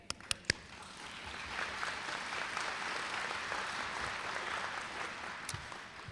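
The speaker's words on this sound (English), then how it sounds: "while applause is nice" A crowd applauds at a GED graduation ceremony, a soft, distant, even wash of clapping that swells gently and holds, framed by a few sharp knocks at the beginning and end.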